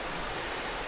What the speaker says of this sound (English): Another waterfall and kind of rippling cascade, which is nice.